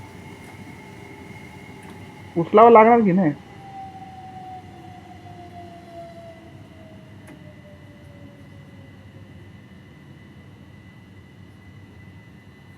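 A train from Train Sim World 3 runs on the 1P02 Ramsgate to London Victoria service with a low steady rumble and a slowly falling electric whine, interrupted early by a brief wavering burst of voice.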